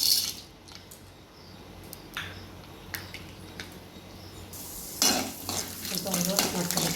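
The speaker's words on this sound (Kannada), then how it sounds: "ಈಗ ಸಾಸಿವೆ ಹಾಕ್ತಾಯಿದ್ದೀನಿ. ಸ್ವಲ್ಪ ಕಡಲೆಬೇಳೆ," Mustard seeds and chana dal sizzle in hot oil in a pan, a soft steady hiss with a few light clinks before a louder, brighter burst of frying and stirring near the end; no talking.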